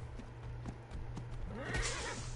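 A horse ridden in the Ark: Survival Evolved video game, with a steady clip-clop of hooves and a loud neigh rising near the end, close and continuous over game background noise.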